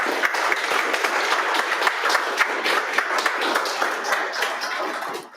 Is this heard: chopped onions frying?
no